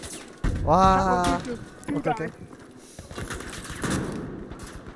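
Shotgun blasts in the first-person shooter Battlefield V, a few heavy booming shots breaking through after a burst of excited talk, with rumbling battle noise continuing underneath.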